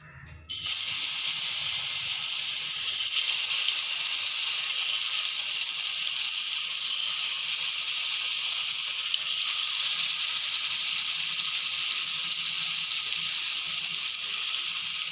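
Sliced bitter gourd frying in hot oil gives a steady, loud, hissing sizzle that stays even throughout after a brief start.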